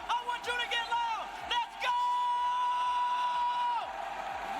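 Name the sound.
crowd cheering at esports watch party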